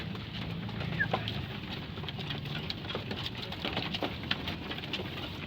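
Pet pigeons coo softly in a loft, low throaty calls repeating under a patter of rain-like background noise, fairly quiet and close.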